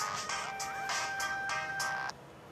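A phone ringtone sounds a sustained electronic melody with pulsing tones for about two seconds, then cuts off abruptly, leaving quiet room noise behind.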